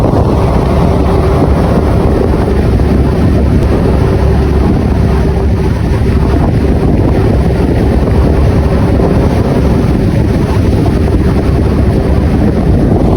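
A passenger ship crossing rough seas on the way to Romblon, with a constant loud roar of wind and crashing waves and heavy wind buffeting on the microphone throughout.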